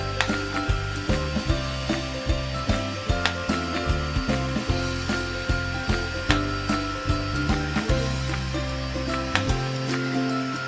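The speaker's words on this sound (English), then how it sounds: "If you keep holding it down as you move it, then it'll zap when it gets to the next area automatically" A home laser hair removal handset zaps along a leg, giving a steady series of sharp, close clicks at an even rhythm over a faint, continuous electrical hum.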